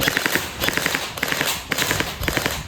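An electric PDX gel blaster fires in rapid bursts, with quick snapping shots grouped in short volleys close to the microphone and no talk over them.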